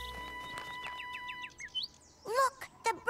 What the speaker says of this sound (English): Look, the birds are coming back.